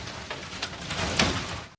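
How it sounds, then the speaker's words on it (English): Hailstones from a Beijing hailstorm strike hard surfaces such as cars, forming a dense, continuous clatter with a few sharper cracks. It is steady and fairly loud, with no voices. "The sound of the hail resembled gunshots or firecrackers as the ice shattered on impact with hard surfaces"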